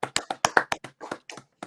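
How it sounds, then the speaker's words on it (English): A few sharp hand claps from a small group of sports talk show hosts, close and dry, in a brief uneven burst that thins out toward the end. "But clap it up."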